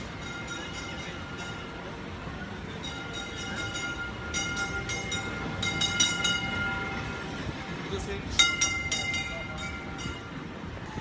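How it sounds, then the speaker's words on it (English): A heritage tram passes at a moderate distance on a street in Taksim, Istanbul, its bell or horn tones ringing intermittently over steady rolling street noise. "the most important thing in Taksim, the train of Taksim"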